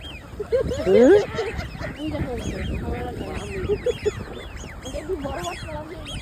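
Ducks quack in a busy flock while being fed bread, repeated nasal calls overlapping through the whole stretch with one louder burst near the start, and voices talking faintly underneath.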